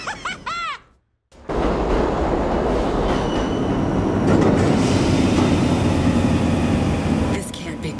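Train rumbling past in the World War Z video game in New York, a loud sustained rolling clatter with wheel squeal, preceded by a voice and a brief silent gap, then fading near the end.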